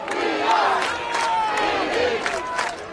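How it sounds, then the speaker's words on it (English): Saints supporters at a high school football game keep up a loud, continuous cheer, with shrill individual yells rising above the dense crowd roar. "Saints crowd getting into the action."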